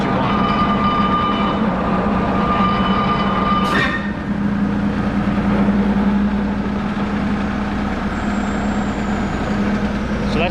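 Chicago 25 ton press brake running, a steady loud mechanical hum and motor drone throughout, with a brief sharp clunk and whine as the ram strokes down partway through, the machine continuing to hum afterward.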